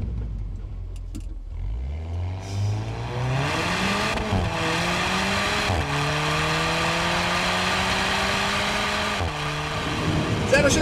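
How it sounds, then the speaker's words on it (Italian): An Alfa Romeo 4C accelerates hard through several gears, its engine note climbing steadily and dropping sharply at each upshift before rising again, loud and close throughout. "Godiamoci un attimo un'accelerazione."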